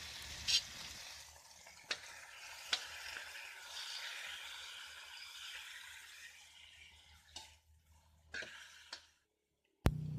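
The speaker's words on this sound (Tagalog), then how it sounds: "Now add the chicken, then fry it for a few minutes." Chicken pieces frying in a pan with ginger, a steady close hiss and sizzle punctuated by a few sharp utensil knocks, fading and briefly cutting out near the end.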